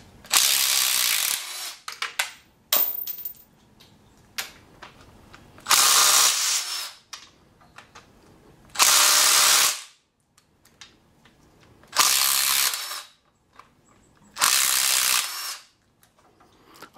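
Ratchet wrench loosening bolts during an LS swap on a BMW, five or six loud, close bursts of rapid clicking, each lasting about a second, separated by quiet pauses with faint handling clatter.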